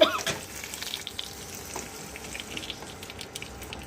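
Tempering seeds and dried red chillies sizzle in hot oil in a pan, with a sharp burst at the start that settles into a quieter crackling fry with a few stirring clicks and no speech.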